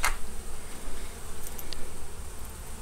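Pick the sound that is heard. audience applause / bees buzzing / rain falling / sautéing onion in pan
bees buzzing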